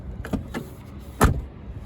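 Car door of a 1996 Broadway opened and shut nearby: a couple of light clicks and rattles from the latch, then one solid, fairly loud thump, with no talking.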